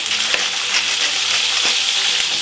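Meat searing hard in a pan to come out pink inside, with a steady loud sizzle throughout and a few sharp spits and utensil scrapes as pieces are turned.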